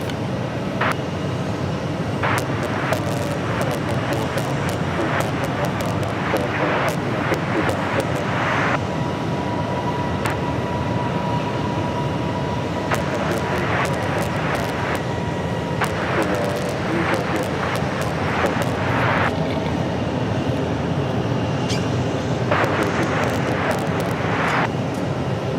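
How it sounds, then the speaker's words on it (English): An American Airlines airliner on approach to the runway at Phoenix Sky Harbor Airport, a steady broad roar of jet engine noise that stays loud throughout, with faint scattered clicks and no clear talking. "We have American Airlines coming in."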